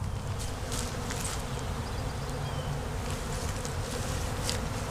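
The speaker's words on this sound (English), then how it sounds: "Yep, lots of bees working." Honeybees buzz steadily around a neglected swarm trap, a dense continuous hum close by, with no talking.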